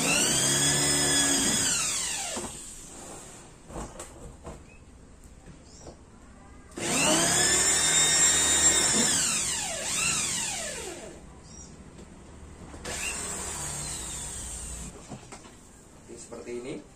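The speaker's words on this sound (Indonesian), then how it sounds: "kita tambahkan di samping tadi mata bor 6 mili, juga kita tambahkan yang mata bor setengah in sebagai lubang sirkulasi" A power drill with 6 mm and half-inch bits bores holes into the side of a plastic bucket, three loud whining bursts of a few seconds each, their pitch sagging under load, separated by quiet gaps with light handling noise.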